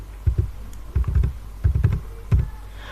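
Keystrokes tapping in several quick bursts with short pauses as a 16-digit card number is typed on a computer keyboard, close and clear, with no talking.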